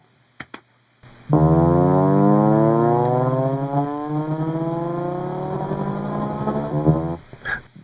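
A loud drum and bass synth riser sweeps upward in pitch for several seconds, buzzing and harmonically rich, preceded by a couple of short clicks.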